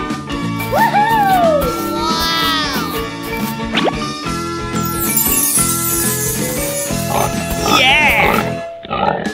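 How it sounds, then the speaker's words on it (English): Pig grunts and oinks come in short bursts over bouncy children's music, with squeaky cartoonish effects and a rising whoosh partway through. "Pig."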